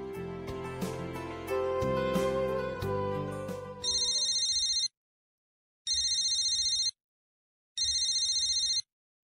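After a stretch of background music, an outgoing phone call rings back in three identical electronic ring bursts, evenly spaced with silent gaps, clear and close.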